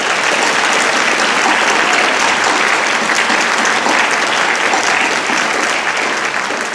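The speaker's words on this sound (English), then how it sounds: "Let's give them a round of applause" Steady, loud audience applause for a band at a musical event hosted in a Baptist church, dense clapping that carries on without a break.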